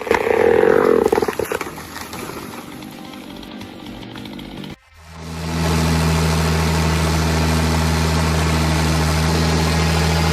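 An IH 5288 tractor engine runs steadily during forestry stump-pulling work, a loud, even drone with a strong low hum after a brief dip, preceded by harsher, rougher machinery noise.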